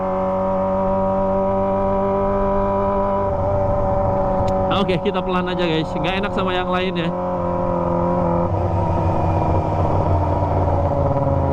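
Kawasaki ZX25R motorcycle with a Toce aftermarket exhaust riding at an easy pace, its steady engine drone swelling into a brief throttle blip midway and settling again, loud and close, with someone talking over it.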